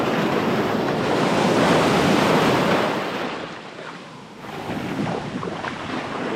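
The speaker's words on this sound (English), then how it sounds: "What's this beach called? Eagle Beach?" Ocean waves on Eagle Beach, Aruba, a loud continuous wash of surf with wind buffeting the microphone, easing briefly midway before building again.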